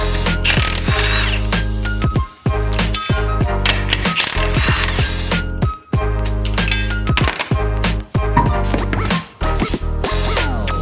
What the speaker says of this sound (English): go ahead and take the 19mm wheel nuts off